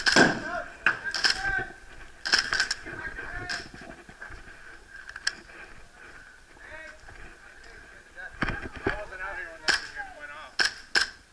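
Airsoft pistol shots crack in an indoor kill house during an airsoft game, a series of sharp snapping pops spread irregularly through the clip, mixed with voices talking and shouting.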